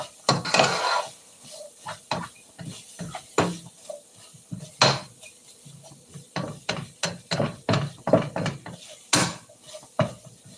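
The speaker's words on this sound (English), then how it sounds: "Hold on, let me give it a good stir." A spoon stirs taco filling with onions in a pot, producing a rapid series of clattering scrapes and knocks against the metal, close and fairly loud, with no talking.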